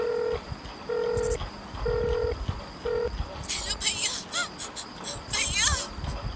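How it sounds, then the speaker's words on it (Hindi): A repeating electronic telephone tone sounds in short evenly spaced beeps, followed by a woman's crying and sobbing voice. "फोन की घंटी बजती है।"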